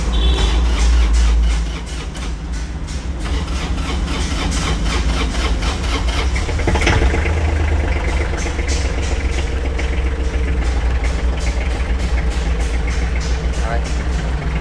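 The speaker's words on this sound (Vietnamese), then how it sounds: "Để mình nổ máy cho mọi người cùng xem nha." An Iseki GEAS 29 four-wheel-drive tractor engine cranks and catches, then settles into a steady, rumbling idle that continues without a break.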